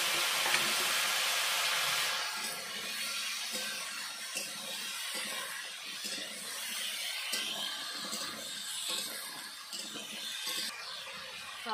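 Cut, washed vegetables for shukto fry in a pan with a steady, close sizzle and hiss, broken by soft stirring scrapes and clatter throughout, no voices.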